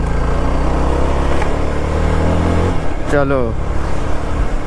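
A motorbike rides along a road in Udumbanchola, its engine a steady, loud drone with rushing wind and passing traffic noise, while someone talks over it near the end.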